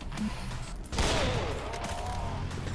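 Sniper fire echoes in a PC shooter video game, with a sharp report about a second in and a trailing reverberant whine beneath a busy game soundscape.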